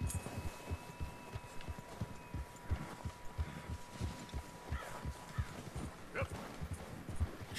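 Horse hooves pound in a steady, quick galloping rhythm while riding in Red Dead Redemption 2, close and clear with faint ambient noise behind, no talking.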